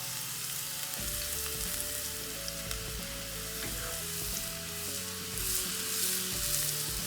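Methi seeds, sesame seeds and garlic roast in hot oil on a lowered flame, giving a quiet but continuous sizzle with crackling that stays close and even. Soft low tones sit underneath, and no voices are heard.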